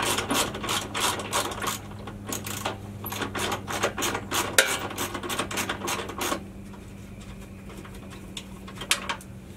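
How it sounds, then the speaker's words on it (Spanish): Ratchet wrench loosening a bolt under the radiator of a Toyota Sienna, a fast run of close metallic clicks that carries for several seconds, then stops, leaving a low hum with a few stray taps. "le quitamos el tornillo que está acá abajo, que es del mismo, nomás sosteniendo la barra"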